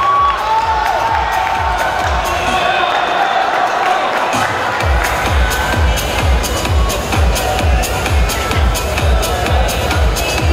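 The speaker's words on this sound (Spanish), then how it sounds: "Un aplauso" A fitness competition audience applauds and cheers for the bronze medalist in the senior bikini fitness category, a loud sustained roar of clapping and shouts that swells midway and continues steadily throughout.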